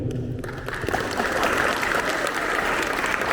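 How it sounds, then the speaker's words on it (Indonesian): An audience at a school police-safety outreach session breaks into loud, sustained applause that swells and keeps going in a dense, continuous clatter of clapping. "Mari kita berikan aplaus buat beliau."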